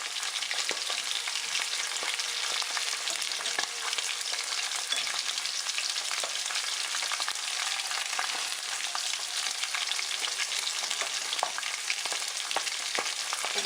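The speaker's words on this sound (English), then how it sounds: "Put it in the pan. And this way you really don't have to touch anywhere near this hot oil." Panko-crusted salmon fries in a pan of hot oil, giving a steady, dense crackling sizzle that holds at an even level throughout, close and continuous with no voices over it.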